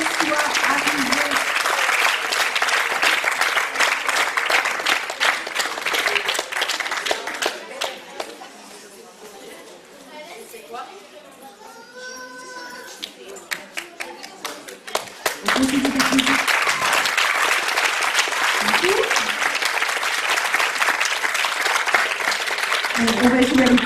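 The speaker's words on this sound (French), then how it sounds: "Allez, on les applaudit jusqu'à ce qu'elles soient arrivées." Audience at a school poetry festival prize ceremony claps in sustained applause, which fades mid-way under a quieter stretch with a few voices, then swells back to full, even clapping while someone speaks briefly over it.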